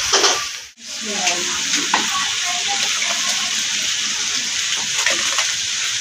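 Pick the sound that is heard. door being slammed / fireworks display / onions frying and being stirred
onions frying and being stirred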